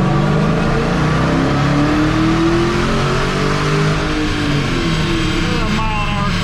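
A Dodge Challenger SRT Hellcat engine on a dyno revs loud and close, its pitch climbing steadily through a full pull with a dense, sustained roar.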